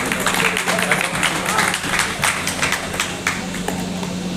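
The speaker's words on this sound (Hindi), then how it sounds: "तालियां बजाते रहें आप लोग।" Audience at a traders' felicitation ceremony in Saripura clapping in a rapid, uneven patter of many hands, fairly close, steady for a few seconds with faint voices underneath.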